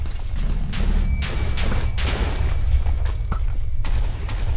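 Explosions go off in the video game Minecraft, with several loud booming blasts and crashing bursts over a constant low rumble, close and heavy.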